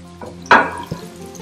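Chicken legs lowered into preheated oil in a frying pan over a moderate flame, with a sudden sharp sizzle burst that fades into a softer crackle, then a brief second splash.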